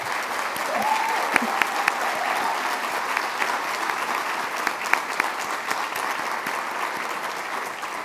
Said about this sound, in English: Please join me in a round of applause for Dominion Energy and their incredible support